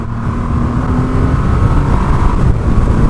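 A Triumph Rocket 3 R 2500cc motorcycle accelerates hard to overtake, its loud, deep engine roar droning continuously and building under heavy wind rush, with no voices.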